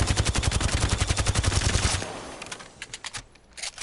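Rapid automatic gunfire from a weapon in the video game Apex Legends rattles off in a fast, even burst for about two seconds, then trails into a few scattered, quieter shots.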